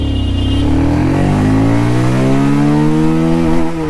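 A car accelerates hard from a standstill on a 0-100 run, with the engine note rising steadily and loudly through the revs and a brief dip as it shifts near the end.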